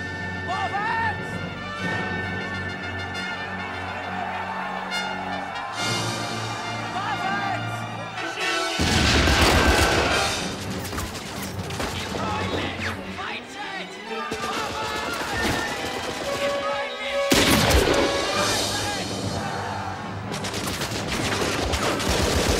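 A film artillery bombardment with music playing underneath, rapid gunfire-like bursts and crashes breaking out loudly around nine seconds and again near seventeen seconds.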